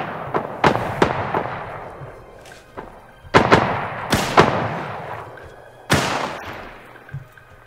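Gunshots in the Wild West PC game New Frontier: about six sharp, loud reports with short decaying tails, spread irregularly over several seconds against a low ambient rumble.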